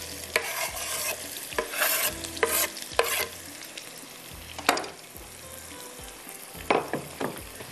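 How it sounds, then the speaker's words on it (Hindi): Onions frying until brown for a beetroot and mutton curry, with steady sizzling and repeated scraping stirs of a spoon in the pan, close and moderately loud, no talking. "प्याज ब्राउन हो रहा है, इसको अच्छी तरह से हमने कलर देना है"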